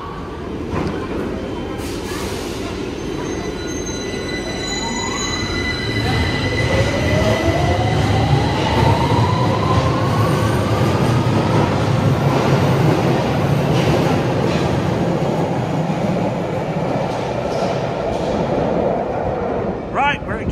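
A train pulling out of London Victoria station, with a steady loud rumble of the carriages, rising motor whine and squealing wheels, while people talk now and then over it.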